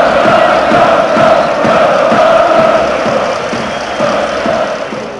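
A dense roaring crowd of Red Star fans fills a football stadium in Belgrade, sustained chanting and cheering blending into a loud, continuous wall of voices.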